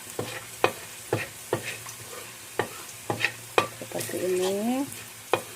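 Fish is stir-fried in a wok, with regular sharp spatula knocks against the metal over a low sizzle, close and rhythmic, and a brief spoken phrase near the end.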